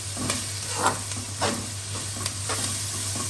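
Onions and green chilies fry in masala in a pan, with a steady soft sizzle and several gentle stirring scrapes at close range over a constant low hum.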